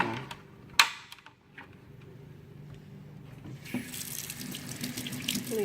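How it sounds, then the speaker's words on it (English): A tap runs cold water into the tank of a Xiaomi robot vacuum-mop after a sharp knock, with the gushing flow rising and getting louder as filling continues. "Filling it up with cold water"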